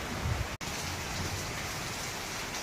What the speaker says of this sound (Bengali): এখন সকাল সকাল প্রার্থনার পর প্রচণ্ড বৃষ্টি শুরু হয়েছে আবার